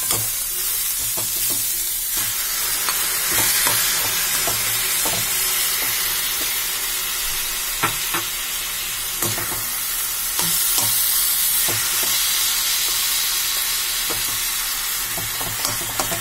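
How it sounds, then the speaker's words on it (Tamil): Chopped tomatoes sauté in a hot pan for kaara poli, with a continuous close sizzle and the irregular scrape and clack of a spoon stirring them, and no voices. "கட் பண்ணி வச்சிருக்க தக்காளி இதை போட்டு நல்லா கலக்கிட்டு இருக்கேன்."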